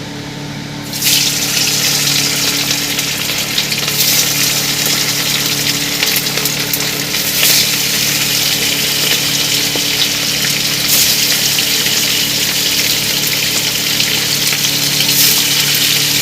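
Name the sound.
gurjali fish frying in hot oil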